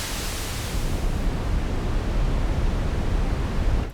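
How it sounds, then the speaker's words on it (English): Steady, loud rushing noise from an ARP 2600 synthesizer's noise generator, dark and rumbling, with the hiss fading as the high end is filtered out over a few seconds. "leaving just the low frequencies of the noise"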